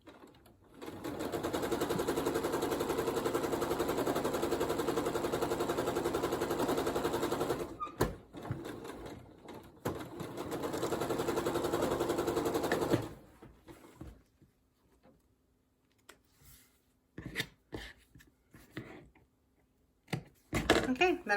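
A sewing machine stitches log cabin quilt blocks in two long, rapid bursts, then stops, leaving quiet stretches broken by a few soft clicks and handling noises.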